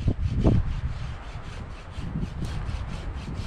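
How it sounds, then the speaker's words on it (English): A wood rasp scrapes across a piece of balsam fir outdoors at a bushcraft shelter site, giving soft, close, repeated rubbing strokes with an irregular rhythm and no talk. "And I just want to run my wood rasp"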